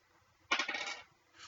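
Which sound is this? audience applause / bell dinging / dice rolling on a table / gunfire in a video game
dice rolling on a table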